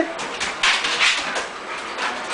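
A dog whimpers and yips excitedly in short, close bursts while people talk nearby.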